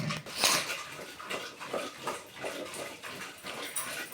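A wooden churner mashes cooked sambar ingredients in a pot, making soft, wet squelching and rhythmic scraping strokes, close and fairly quiet.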